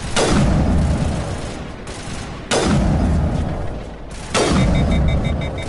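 Three loud, evenly spaced gunshots boom one after another, each with a long reverberant tail, in Mass Effect with no talking.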